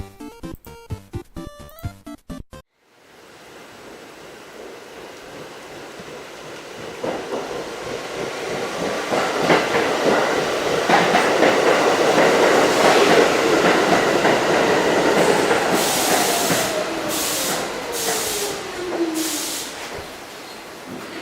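A Rockaway Shuttle subway train runs along the tracks, starting with a brief musical chime, then building into a loud rolling rumble with clickety-clack and rising wheel whine, and ending in a few sharp bursts.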